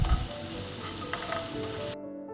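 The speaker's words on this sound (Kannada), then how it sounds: "ಸೊ ಎರಡನ್ನು ನೀಟಾಗಿ ಫ್ರೈ ಮಾಡಿಕೊಳ್ಳುವ" Oil sizzles in a home pan while pepper chicken is being made, a soft, steady close crackle that cuts off abruptly near the end.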